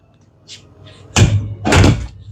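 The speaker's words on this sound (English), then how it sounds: "I'm gonna close the door here." An indoor door is pushed shut, with a couple of faint taps first, then a loud close thump followed by a second heavy thud and a rattle, close to the microphone.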